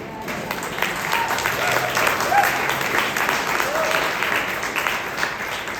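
Audience applause at a parents' rally about the Santa Susana Field Lab, steady, moderately loud clapping from a crowd that continues evenly for about six seconds.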